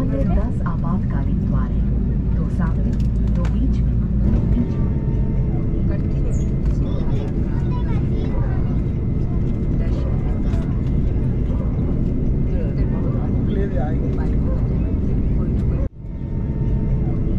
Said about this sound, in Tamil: ஒரு வழியாக ரன்வே நம்பர் 27R நோக்கி டாக்ஸி பண்ணியாச்சு